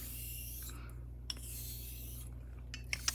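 A Filarmonica 14 straight razor is honed on a stone with slurry, giving faint soft rasping strokes with a few small clicks over a low steady hum, quiet and close.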